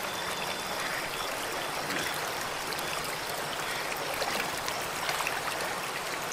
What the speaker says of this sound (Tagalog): Ganda ng ilog dito, malinis naman siya, then tsaka running water siya.